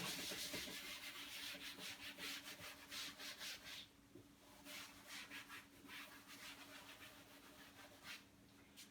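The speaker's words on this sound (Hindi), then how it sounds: "मैं इसको रब कर देता हूं" Steady rhythmic rubbing on a sheet of paper, close and soft, with a repeated back-and-forth scratching pulse that pauses briefly midway and then resumes. No speech is present.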